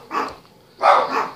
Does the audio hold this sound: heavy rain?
no